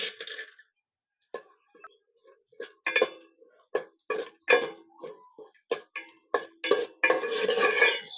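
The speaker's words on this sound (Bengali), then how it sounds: "বেশ কয়েকটা নিয়েছি কাজু বাদাম, অল্প একটু নিয়েছি কাঠবাদাম। এবার একটু ভেজে নেব।" Cashews and a few almonds being fried in ghee in a pan, with repeated clinks and scrapes of a spoon against the metal and a soft sizzle, close and fairly loud, with no talk.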